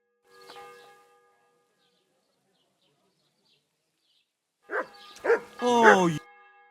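A dog in the medieval role-playing video game Kingdom Come: Deliverance 2 gives a few short, close barks after a long silent gap, with a brief vocal sound at the start.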